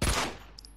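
A single sharp gunshot in the video game Max Payne 2 bursts out loud, then quickly decays into a faint tail with a couple of small high blips.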